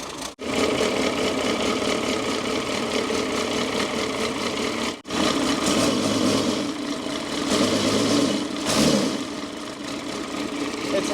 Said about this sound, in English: It's idled down real low.